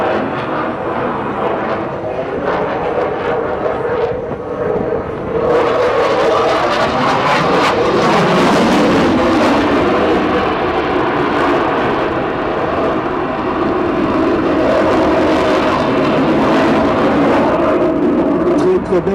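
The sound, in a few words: Dassault Rafale fighter jet flying aerobatic loops at an air show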